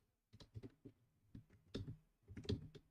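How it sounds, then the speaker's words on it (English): Fast, irregular keystroke clicks on a computer keyboard, quiet and close, coming in bursts with short pauses and no talking over them. "Maybe I'm gonna type here."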